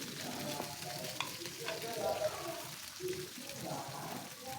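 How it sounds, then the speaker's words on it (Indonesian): Five large red chilies and sliced shallots stir-fry in hot oil in a pan, giving a steady sizzle with scraping stirs and a few clinks of the utensil. "Lalu 5 buah cabai merah besar kita tumis juga."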